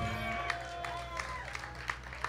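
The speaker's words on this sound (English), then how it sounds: "give yourselves a round of applause" An audience at a college spring music festival applauds with scattered, fairly faint clapping and a low crowd murmur beneath.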